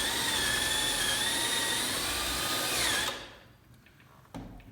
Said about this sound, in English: I like to put my drill on an angle